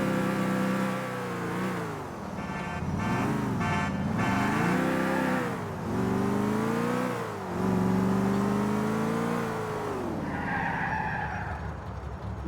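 Open-top car driving in GTA 4, its engine whining steadily and rising and falling in pitch as it accelerates and eases off, loud and close, with no voices.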